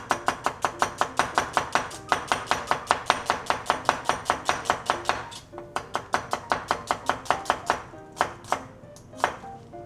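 A knife slices onions thinly on a cutting board in a restaurant kitchen, a fast steady run of sharp close chops that slows and becomes irregular toward the end, with no talking.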